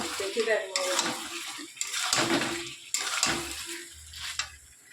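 Chicken cooking down in hot oil in a pan, stirred with a spatula: a steady frying hiss with repeated scraping strokes, close and fairly loud, and no talking.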